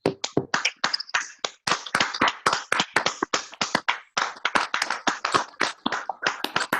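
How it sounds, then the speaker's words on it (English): Participants on an online webinar call clap their hands, sharp individual claps from several unmuted people tumbling over each other in irregular bursts for several seconds, close and dry. "give a big hand clap for all the speakers"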